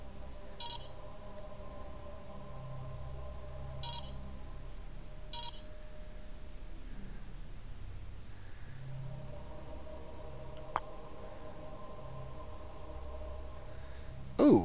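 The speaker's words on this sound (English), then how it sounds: "Beep beep. What's beep beep mean?" Electronic beeps sound in the StarLords 4X space strategy game, a few short tones spaced several seconds apart over a steady background hum, followed by a faint single click.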